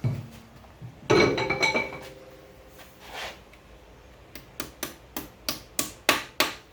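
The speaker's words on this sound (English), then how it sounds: "Just hammer them in, you're good." Metal taps ring out sharply: a heavy strike, a pause, then a quick run of about eight evenly spaced light hammer blows driving dowel pins into a V8 engine block.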